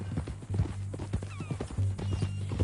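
Horse hooves clip-clop in a steady, close rhythm in Red Dead Redemption 2, with a low rumble beneath the footfalls.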